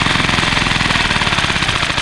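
Outboard motor running roughly after repair, a loud close engine chugging in a fast uneven pulsing rhythm that never settles into a smooth idle.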